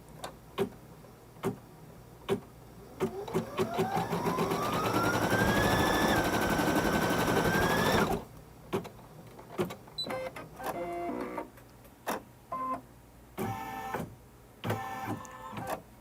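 An embroidery machine runs a placement stitch close up, its motor whine rising and holding before it breaks into bursts of rapid mechanical clatter and ticking with pauses between, with no talk.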